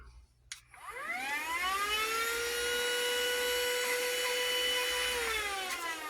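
A handheld Black and Decker Dustbuster-style vacuum with its narrow wand attached whines into life with a rising motor tone, then runs steadily and loudly at close range for several seconds with no talking.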